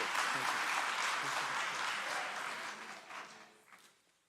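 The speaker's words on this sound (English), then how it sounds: "Let's give him a round of applause." Audience applause at a youth resilience summit, a dense sustained round of clapping that holds steady and then thins out and fades toward the end.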